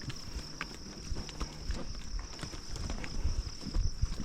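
Horse hooves walking along a trail on a horseback tour, soft irregular clip-clop steps close by over rustling ground and faint insect chirps, with no one speaking.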